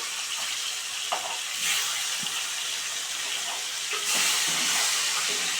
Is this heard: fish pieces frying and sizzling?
yes